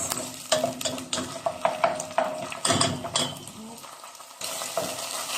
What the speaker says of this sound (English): While this is getting brown, just mix it just to make sure the flavor of the garlic and ginger is everywhere in the onions